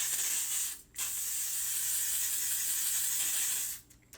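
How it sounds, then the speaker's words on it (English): Two long, steady, close bursts of L'Oreal 3-Second Setting Spray hiss from an aerosol can, the first about a second and the second roughly three seconds, separated by a brief pause. "she finishes her routine with the L'Oreal 3-Second Setting Spray"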